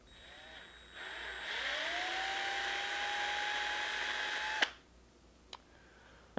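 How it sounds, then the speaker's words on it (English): An electric drill bores a hole into the metal of a Floyd Rose-style guitar tremolo, its motor winding up to a high, steady whine for several seconds before cutting off, with a couple of sharp clicks afterward. "we're actually drilling into the metal"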